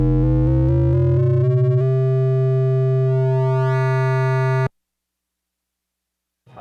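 An ASM Leviasynth synthesizer plays a phase distortion square waveform: a steady, buzzy, harmonic-rich tone that steps through short notes, then holds a long sustained note that brightens before cutting off abruptly. Silence follows, with a faint noise at the end.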